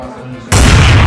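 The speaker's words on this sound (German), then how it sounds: "der Victor schießt jetzt. Der erste geht" A Nerf gun fires at a streamer Nerf gun battle event, a sudden loud burst that cuts in after a brief quiet lead-in with faint voices and stays loud and dense to the end.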